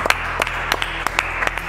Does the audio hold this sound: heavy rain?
no